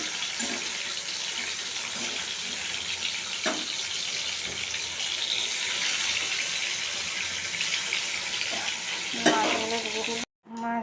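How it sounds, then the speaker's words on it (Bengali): Fish fry in hot oil in a wok with a loud, dense, continuous sizzle and crackle, close up, with a few brief scrapes before it cuts off near the end. "তেলটা একটু গরম হয়ে যাক তার মধ্যে দিয়ে দেবো মাছগুলো"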